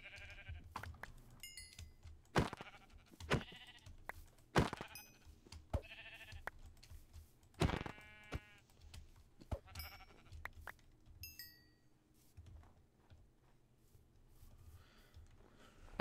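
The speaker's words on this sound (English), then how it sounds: "There's some sheep." Sheep in the video game Minecraft (PolyCraft) bleat several times in short, scattered calls over quiet game ambience, some louder and nearer than others, with occasional small chiming effects.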